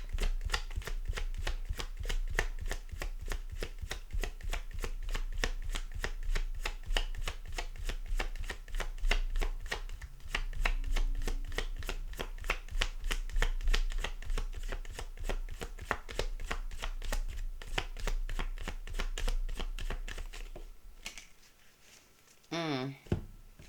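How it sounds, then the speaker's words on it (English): A tarot card deck is shuffled steadily and quickly for around twenty seconds, a dense, close riffling patter with a voice talking over it, ending in a few softer handling sounds. "the final shuffle"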